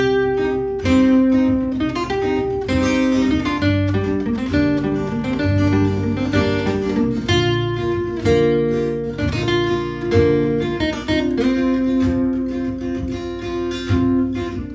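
Guitar playing the Game of Thrones theme, with a looped rhythm part and a lead melody on top, continuous, close and fairly loud for about fifteen seconds with no talking.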